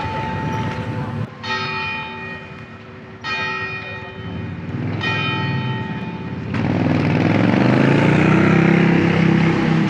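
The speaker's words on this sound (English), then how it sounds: "Trams and bells." Church bells ring out in Geneva's old town in several loud, overlapping peals with a clear tonal strike, over steady street and traffic noise that swells into a louder rumble near the end.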